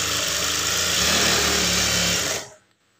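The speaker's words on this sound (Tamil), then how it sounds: "இந்த ஓப்பன் ஏஜில் வந்து தையல் போட்டுக்குங்க." An electric sewing machine running steadily as it stitches blouse lining fabric along a folded open edge, a loud continuous mechanical whir that stops abruptly near the end.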